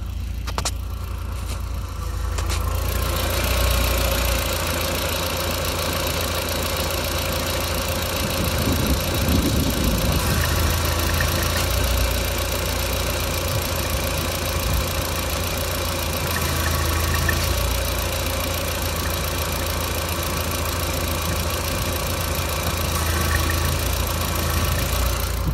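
An Audi TT engine idles steadily and evenly through the whole stretch during power steering bleeding, a close, constant mid-pitched hum with no talk over it.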